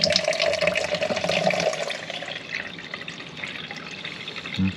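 Hymer motorhome fresh water pump running as water flows steadily into a measuring container, a continuous close splashing trickle with a faint pump hum.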